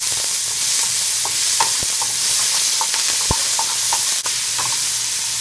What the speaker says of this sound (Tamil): இப்போ வெங்காயம் நல்லா வணங்கிருச்சுங்க